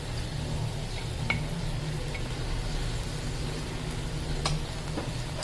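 Chopped carrots and capsicum being stirred in a pan for Chinese kabab, with a steady low sizzle of frying throughout and a few faint clinks of the spoon against the pan.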